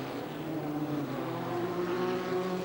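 Formula 3 race cars from 1979 at the Thruxton chicane, their engines droning steadily with layered harmonic tones, several cars close together and fairly loud throughout.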